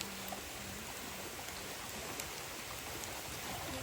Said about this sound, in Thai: วันนี้ฝนตกหนักจริง